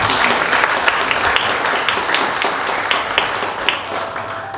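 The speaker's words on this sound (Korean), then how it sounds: "큰 박수 부탁드립니다." Sustained applause from an audience at a university labor union general meeting and inauguration ceremony, many hands clapping densely and steadily throughout.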